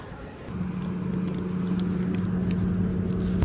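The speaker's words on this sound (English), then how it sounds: "so I'm driving back home now after getting my lunch" A car drives along with a steady low engine hum and road rumble heard from inside the cabin, constant and moderately loud, with faint ticks and taps over it and no voices.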